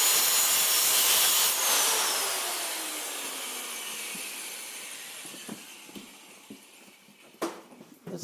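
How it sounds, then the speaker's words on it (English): Angle grinder running through a battery cable clamp, a loud sustained whine that slowly winds down, with scattered clicks and scraping toward the end. "If you got a battery cable that won't clamp down, instead of putting a shim in it, just run your grinder through it"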